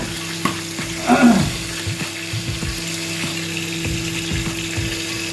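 Onions sizzle steadily in a pan with ginger garlic paste for chicken mandi, with a louder stirring scrape near the start and light rhythmic ticks of the spoon against the pan.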